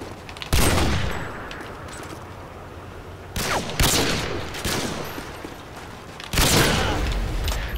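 Three loud gunshot bursts in a video game, each a sharp crack followed by a long, rumbling decay, land a few seconds apart over a steady ambient background.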